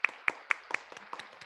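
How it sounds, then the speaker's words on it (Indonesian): Sparse hand claps from a small online webinar audience, about seven or eight sharp claps spaced unevenly over a second and a half, close and dry with quiet gaps between them. "boleh minta tepuk tangannya untuk seluruh peserta webinar"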